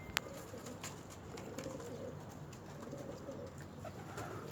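Pigeons coo faintly on a rooftop, soft low calls repeating over quiet outdoor background noise, with a sharp click early on.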